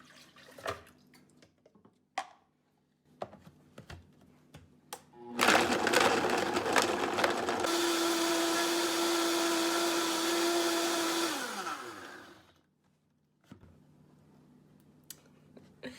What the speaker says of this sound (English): even though this is an extremely high powered blender, the big chunk doesn't want to get up in there